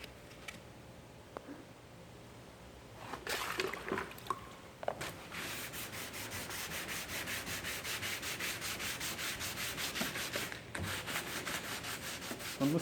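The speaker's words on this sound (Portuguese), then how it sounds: "E agora a gente vai lixar." Waterproof sandpaper wet-sands automotive PU primer in a steady, rhythmic rubbing, close and fairly quiet, after a few scattered taps and handling noises at the start.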